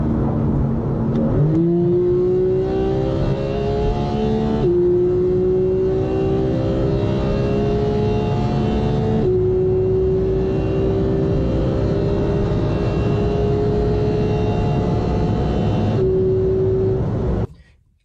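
A Porsche with a PDK gearbox accelerates hard, its engine howling upward through rapid gear changes, each shift dropping the pitch before it climbs again, loud and close throughout, cutting off abruptly at the end.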